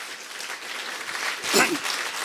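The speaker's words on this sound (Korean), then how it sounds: "박수 한번 또 치겠습니다" A church congregation claps during a Sunday worship service: a steady round of applause fills the room, and a voice calls out briefly partway through.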